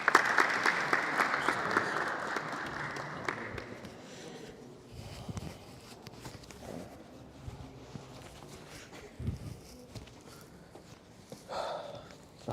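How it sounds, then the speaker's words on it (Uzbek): Applause from an audience at a student council debate, loud and dense for the first few seconds, then thinning to scattered claps, shuffling and room noise, with a brief burst near the end. "Qarsak"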